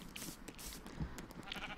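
A single short, faint bleat from a sheep in the Minecraft video game, heard alone against quiet background.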